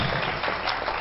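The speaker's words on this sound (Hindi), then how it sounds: "हमें ताली बजे कर तांको धन्यवाद देमा" An audience at a village theatre play claps to thank the performers, a brief burst of dense, even applause filling the space without any voice over it.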